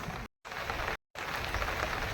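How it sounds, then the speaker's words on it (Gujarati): Steady rain pours over village farm fields after sowing, a dense, even hiss of drops on surfaces, cut by two brief silent gaps. "આજે બહુ સારામાં સારો વરસાદ થઈ ગયો છે"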